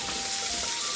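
Masala sautéing in hot oil in a pan gives a steady, bright sizzle with a faint stirring texture throughout, close and continuous, with no voices.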